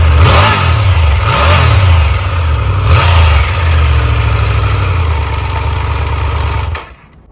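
A 2022 Triumph Tiger 1200 adventure motorcycle engine fires up and revs loudly and close, its throttle blips rising and falling over a steady rumble, then the engine cuts off abruptly near the end.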